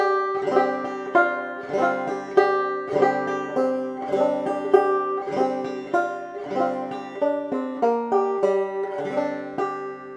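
Bright plucked clawhammer banjo notes roll along in a steady, bouncy rhythm, the first line of the tune Cluck Old Hen played solo and close.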